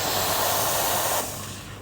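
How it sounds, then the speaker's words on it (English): Steam hissing from a MEBASHI M-CCM2068 coffee machine, a loud, steady close rush of air that drops to a softer hiss after about a second. "So the machine, the steam one, is not yet ready, but this is how it operates."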